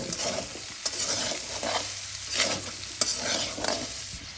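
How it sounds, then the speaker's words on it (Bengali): Ground coriander and salt stirred together in a hot pan: a spatula scrapes in loud, repeated strokes over a steady sizzling hiss. "এগুলো সব একসঙ্গে মিশিয়ে নেব।"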